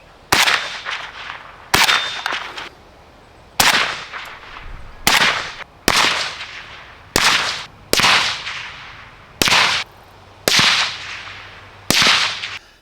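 Ten suppressed 5.56 rifle shots through a Wolfpack Armory Romulus suppressor on a long-stroke piston rifle, recorded at distance. Each sharp crack comes roughly once a second with a short decaying tail, loud and alone.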